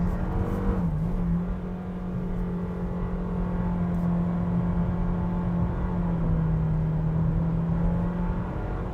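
Inside a 2021 Nissan Kicks, the CVT-driven engine holds a steady droning whine through a turn, its pitch dipping slightly early and again near the end, constant and close throughout.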